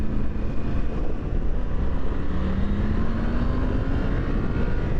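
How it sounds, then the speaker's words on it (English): Triumph Tiger 900 Rally Pro motorcycle with a high-level stainless steel side exhaust, a loud, throaty engine drone that rises in pitch as it is revved, steady and close with no talk. "the sound is incredible, really throaty. So you've got a stainless steel side exhaust"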